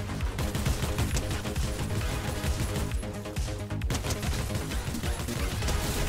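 Dense, continuous game audio from a Fortnite match, with rapid shots and impacts crowding a loud, busy mix throughout, with no voices over it.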